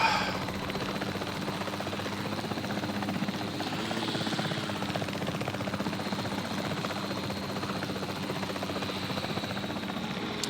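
Helicopter in the video game Jurassic World Evolution 3, a steady whirring rotor and engine drone that holds at an even level throughout, with no speech.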